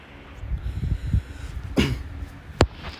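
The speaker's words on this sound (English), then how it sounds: "I'm having cough." A couple of short, sharp coughs close to the microphone, preceded by soft breathing and low rustling, with no talking.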